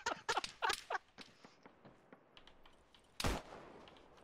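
Unsuppressed gunfire in the video game Arma 3, with a rapid cluster of sharp shots at the start, a few fainter distant reports, and one loud single shot near the end.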